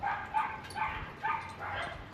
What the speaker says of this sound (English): Dogs are having a bit of a fun time over there